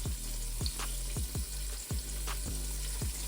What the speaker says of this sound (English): Drop that butter in there.